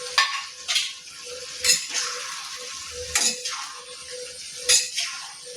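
A spoon stirs aloo gobhi matar sabzi of potato, cauliflower, peas and tomato in a pan, sounding as several sharp metallic scrapes at irregular intervals over a soft, continuous sizzle, close and with no talking.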